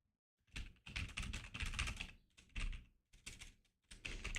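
Rapid typing on a computer keyboard at close range, keystrokes arriving in dense bursts separated by brief pauses, with no talking over it.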